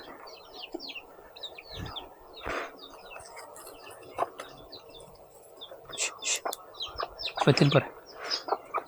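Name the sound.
chickens clucking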